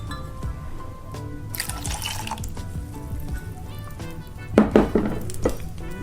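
Plain water poured into a cooking pot while making apple crisp syrup, giving a soft, steady trickle with some clinks of the pot and a few louder splashes near the end, close by with no talking.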